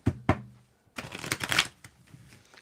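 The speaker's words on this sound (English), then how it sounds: "you can help me with the shuffle" Tarot cards are shuffled by hand: two quick taps, a short pause, then a dense, close burst of riffling and sliding card noise that trails off.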